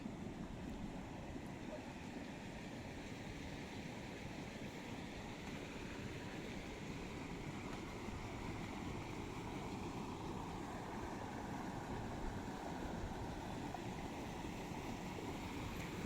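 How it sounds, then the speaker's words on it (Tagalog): A stream flows steadily on a rural residential and farm lot in Pililla, Rizal, making a constant broadband rush that stays faint and even throughout, mixed with light wind and no clear talking. "Yan, may sapa."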